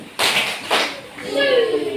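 Children in a classroom clap out a single-clap rhythm: two sharp, separate claps close by, followed by children's voices.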